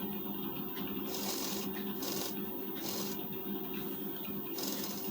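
A sewing machine runs continuously while attaching the neck band of a lined blouse, its fast, even mechanical chatter steady and fairly quiet, with a faint rhythmic rasp pulsing over it.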